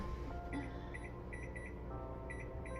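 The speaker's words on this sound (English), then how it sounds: "I'm gonna set my timer now." Kitchen timer in a home kitchen beeps in short repeated double and triple chirps over a faint room background, fairly quiet and with no talking.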